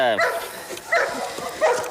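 A dog gives a few short barks or yips spaced across a couple of seconds, close and fairly loud against a noisy background, apparently in a comedy show segment with a playful dog fetching a stick.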